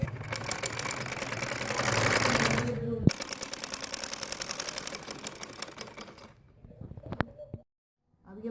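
A sewing machine runs in fast, even bursts while stitching the side seam of a kurti, the rapid mechanical rattle stopping twice, with short pauses and small clicks in between.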